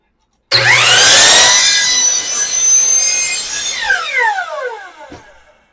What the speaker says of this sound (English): I'm going to use the miter saw. So let's make these cuts real quick.